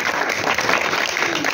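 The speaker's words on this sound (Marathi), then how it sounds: "जाधव मॅडमसाठी टाळ्या वाजवा सगळ्यांसाठी." An audience applauds for a retiring teacher at a school service-completion ceremony, a dense, steady wash of clapping that stays loud and close throughout without a break.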